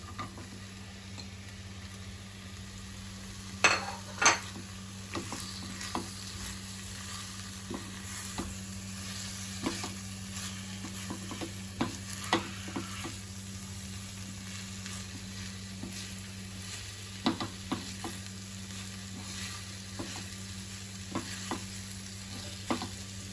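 Boiled potatoes are stirred as they fry in a pan, a soft, continuous sizzle under a low steady hum, broken by occasional louder scrapes and knocks of the spoon against the pan.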